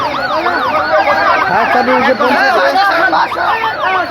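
A fire service vehicle's siren wails in rapid repeated sweeps as it reaches a market fire at Bhurungamari haat in Kurigram. Crowd chatter and shouting run beneath it.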